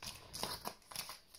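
Pink scissors cut through a plastic vacuum-packing bag used for lugworms, giving a few soft, quiet snips and crinkles close by with no talk.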